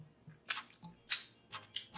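Crunchy BBQ chicken wings in sauce being chewed close up, several sharp crisp bites spaced about half a second apart, quiet with no talk.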